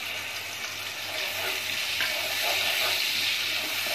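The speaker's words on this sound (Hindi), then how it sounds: "इसको अच्छे से फ्राई करेंगे।" Ground onion paste sizzles steadily in hot oil with a bay leaf, a dense, continuous close frying hiss with soft stirring throughout and no voices.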